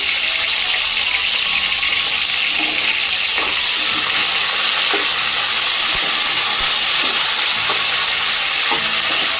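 Cumin seeds fry in hot oil in a pan alongside tomatoes, dried red chillies and tamarind for a tomato chutney. A loud, steady sizzle and hiss is broken by occasional stirring clicks, with no talking.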